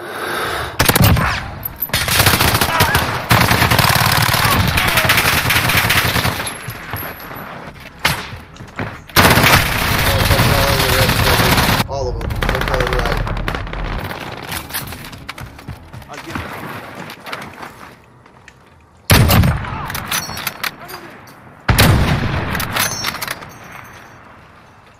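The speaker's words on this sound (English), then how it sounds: "I shot him clearly right in the fucking face." Repeated bursts of video-game gunfire, loud and close, with rapid automatic volleys broken by short pauses and abrupt stops, while someone talks and game voices come and go.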